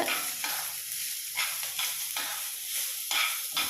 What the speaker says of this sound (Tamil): இதை லைட்டாக இப்படி வதக்கி விட்டுருங்க